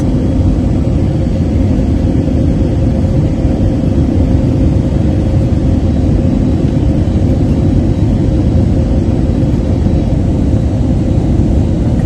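Steady, loud low-frequency rumble fills an EgyptAir business class cabin during landing, a constant engine drone with no talking.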